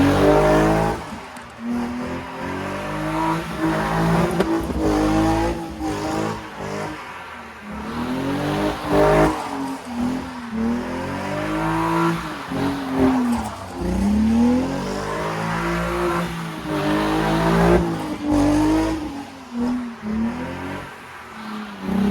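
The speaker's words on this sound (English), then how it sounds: "so car still does rings, seems to be running pretty okay." A drift car engine revs hard and repeatedly while doing rings, rising and falling pitch sweeps loud and close for the whole stretch, with possible tire noise underneath and no talking.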